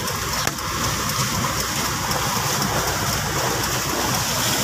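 Steady heavy rain and knee-deep flood water rush in a continuous broadband wash, loud and close, with a faint engine hum underneath and no voices.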